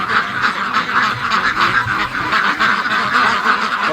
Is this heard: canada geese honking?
yes